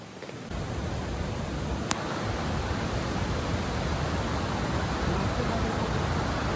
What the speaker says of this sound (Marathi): खूप वॉटरफॉल, लिटरली खूप वॉटरफॉल आहे